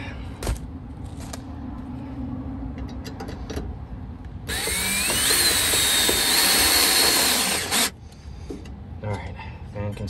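A power drill bores holes to mount a solar attic fan on a historic home, one sustained whirring burst of about three seconds standing out over quieter background noise and handling sounds.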